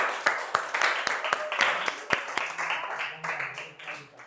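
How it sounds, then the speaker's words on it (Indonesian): Applause from a classroom audience for a student named Bunga, scattered claps with several sharp hand strikes standing out, moderately loud, joined by a few voices and a faint low hum. "Tepuk tangan buat Bunga."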